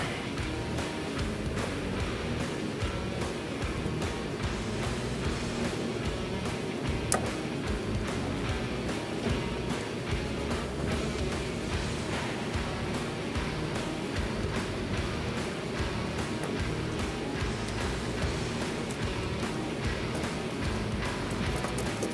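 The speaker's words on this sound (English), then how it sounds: "Hear that, how that chain's rattling too, same way, and you're starting to see the wear on each side of the chain." A worn drive chain on a piece of equipment rattles steadily, forming a dense, even, continuous clatter that holds at the same level for the whole stretch.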